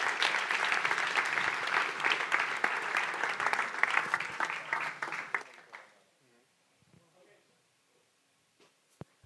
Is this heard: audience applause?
yes